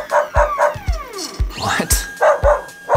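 A robot in dog mode gives a rapid run of sharp, loud barks and yips, close up, with a descending whining sweep in the middle and a brief spoken word.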